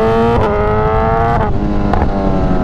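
A BMW S1000R motorcycle engine with ride-by-wire throttle revs repeatedly and loudly up close, its pitch rising and falling in several quick blips with a steady idle rumble in between.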